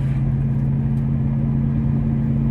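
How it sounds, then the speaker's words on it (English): Steady low engine hum and road rumble from inside a 1995 car on budget coilovers cruising down a street, continuous and moderately loud with no talk. "So far, the little cruise down the street is good."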